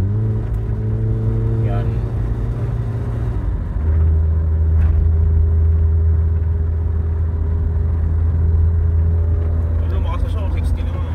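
A Nissan Cube with a history of overheating accelerates on the road, its engine a steady loud rumble that shifts pitch partway through as it gains speed, with someone talking over it throughout.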